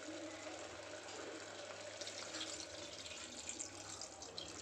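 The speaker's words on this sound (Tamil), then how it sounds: "இது கூட ஒரு 2 டம்ளர் தண்ணி ஆட் பண்ணிக்கலாம்" Two tumblers of water poured into boneless mutton sautéing in a pot for a Madurai-style salted mutton fry, a faint steady gushing and splashing that swells slightly midway, with no talk over it.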